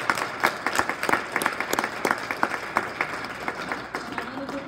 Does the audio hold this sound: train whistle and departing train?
no